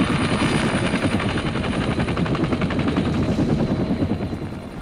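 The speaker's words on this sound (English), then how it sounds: "The helicopter provided unprecedented mobility for our troops." A helicopter in Vietnam War combat footage, its rotor chopping in a loud, fast, steady beat with engine whine, close and continuous without speech.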